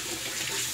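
Water runs steadily from a bathroom tap during a wet shave, a continuous broadband hiss close by with no voices.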